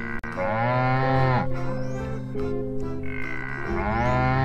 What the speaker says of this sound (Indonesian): Di sini ada sapi perah ya.